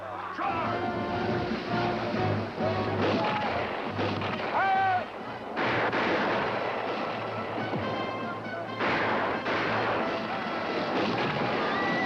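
Musket volleys and cannon-like booms crack and rumble in a vintage Disney battle scene, loud repeated bursts over a tonal orchestral score, with occasional shouting voices.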